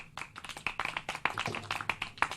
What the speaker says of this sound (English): There's some small applause for Grady